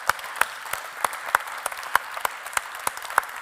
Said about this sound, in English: So we might have another round of applause there.